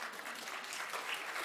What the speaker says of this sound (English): you're allowed to applause.